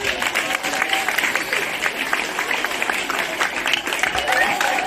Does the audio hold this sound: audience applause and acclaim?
yes